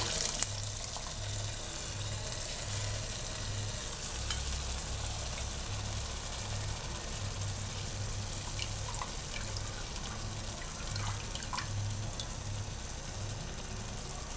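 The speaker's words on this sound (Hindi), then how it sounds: "अब आपने इसमें मुसलसल चम्मच चलाना है" A spoon stirs spinach and lassi kadhi in a pot, a soft steady scraping and gentle bubbling sizzle that goes on without a break, close but quiet, with no speech.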